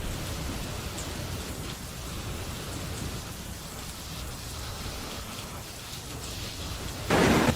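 Heavy rain pours steadily in a dense, hissing wash, with low rumbles of thunder rolling underneath and a burst of louder downpour near the end.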